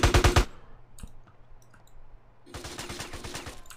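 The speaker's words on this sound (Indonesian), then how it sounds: "shotgun musuh tuh sakit banget guys" Enemy shotgun fire in GTA San Andreas: a loud burst of rapid shots, a quiet lull with scattered clicks, then a second longer burst of repeated blasts.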